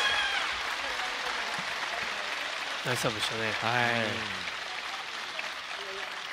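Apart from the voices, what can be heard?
audience applause at table tennis match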